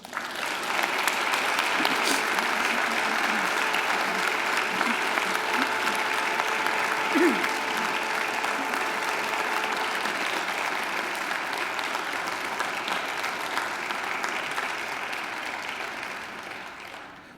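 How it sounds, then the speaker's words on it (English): A graduation ceremony audience applauds families and friends with sustained, dense clapping that fills the hall at an even level for many seconds before slowly thinning toward the end. "give them a mighty round of applause"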